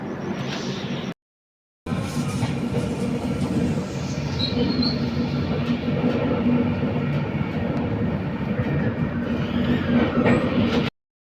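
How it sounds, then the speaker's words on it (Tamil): The Nagercoil Express train rumbles loudly and steadily as it pulls away, with rolling wheel noise and a faint high squeal, after a brief silent gap near the start. "நம்ம ட்ரெயின் வந்து கிளம்பிடுச்சு"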